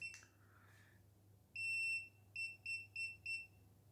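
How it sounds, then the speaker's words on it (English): A Xiaomi electric scooter showing error 14 gives one long electronic beep and then four short beeps in a steady rhythm, close and clear over a faint hum. "You can see one long beep and then 1, 2, 3, 4 small beeps."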